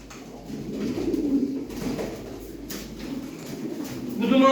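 Breeding pigeons cooing in a loft, soft repeated low throaty coos close by, rising and falling in a few phrases with quiet background noise.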